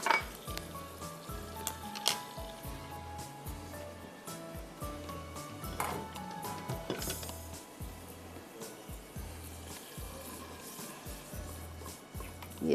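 Butter chicken masala gently frying in a pan over low heat, a soft continuous sizzle with rhythmic stirring scrapes and occasional clinks of a utensil against the pan.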